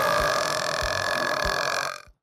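Anime dub characters let out one long, loud, continuous burp lasting about two seconds with a steady droning tone, cutting off abruptly at the end.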